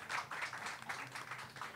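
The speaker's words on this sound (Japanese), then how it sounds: "どうぞ皆様盛大な拍手でお送りください" An audience at a horse-racing event applauds with soft, quick rhythmic bursts of clapping that stay faint and distant throughout.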